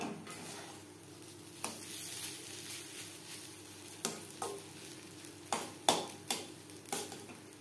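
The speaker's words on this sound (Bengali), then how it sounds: "ঘি ও ড্রাই ফ্রুটস সুজির সাথে বেশ ভালো করে মিক্সড করে দেব।" Semolina with ghee and dry fruits is stirred in a pan for suji halwa, with a soft frying sizzle and repeated scraping and tapping strokes of the spoon, growing more frequent toward the end.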